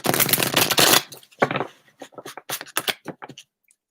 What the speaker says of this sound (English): Give these a quick shuffle.